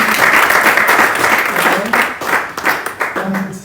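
An audience claps loudly and steadily at a Dyslexia Awareness Month event in a hotel, with voices talking over the applause as it starts to thin out.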